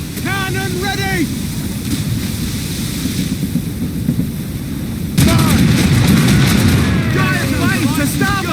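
Ship cannons firing at sea in Assassin's Creed Rogue, with booming blasts over wind and waves, growing louder and denser partway through, while crew voices shout over the action.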